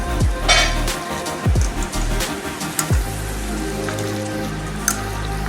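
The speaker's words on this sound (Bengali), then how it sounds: "তেল গরম হয়ে গেছে দেখুন আলুগুলো ছেড়ে দিয়েছি আলুগুলো একটু লাল লাল করে ভেজে নেব" Potato pieces frying in hot oil for a home-style mutton and potato curry give a continuous crackling sizzle like heavy rain, broken by a few sharp clatters from the pan.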